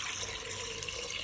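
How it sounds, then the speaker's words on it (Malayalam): Water is poured into a pressure cooker holding soaked chickpeas for chana masala, a brief steady splashing pour heard alone. "വെള്ളം ഒഴിച്ച് കൊടുക്കാം"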